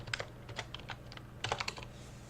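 Quiet keystrokes on a computer keyboard come in short uneven bursts of clicks over a low steady hum, with no voices.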